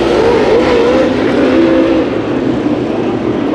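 Race cars in a heat race at Santa Maria Raceway, engines roaring loud and close in a continuous wail, with pitch rising and falling as the cars pass and shift.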